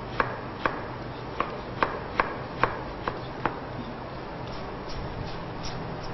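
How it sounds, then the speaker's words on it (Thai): A knife chops daikon radish into thin strips on a board, with about eight crisp, evenly spaced strikes followed by softer cutting and scraping. "หั่นเป็นแผ่นบางๆ แล้วก็ซอยเป็นเส้นๆ ก็ได้นะคะ"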